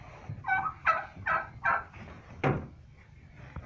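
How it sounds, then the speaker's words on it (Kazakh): A turkey hen caught from her nest gobbles in a rapid run of about five throaty calls, close and clear, then goes quiet apart from faint rustling. "ұяда жатқан күрке тауықты ұстап алдым."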